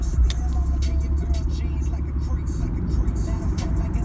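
A Toyota Supra's engine drones steadily as the car accelerates, a loud, close low rumble that stays continuous throughout, with voices talking over it.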